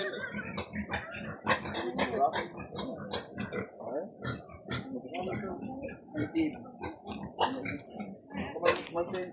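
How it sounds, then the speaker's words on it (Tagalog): A pig oinks and grunts over and over in short, uneven bursts, close and fairly loud, while people talk and laugh around it at a Ganippa gathering. "Baboy."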